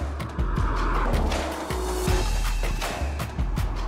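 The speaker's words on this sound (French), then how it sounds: "laisser chanter son moteur et cette voix unique, celle du V12 biturbo et de ses 725 chevaux, à peine canalisés par un échappement en titane" A 725-horsepower V12 biturbo car engine with a titanium exhaust revs and pulls hard, loud and close, with repeated sharp surges and gear-change bursts across the whole stretch and no talking over it.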